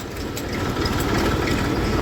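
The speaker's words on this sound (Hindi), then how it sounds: "ट्रैक्टर आ रहा है जो फोटू भाई ने नया ट्रैक्टर लिया था" A new tractor's heavy diesel engine rumbles close by as it arrives on a farm field, a loud, continuous low chugging throb with no talk over it.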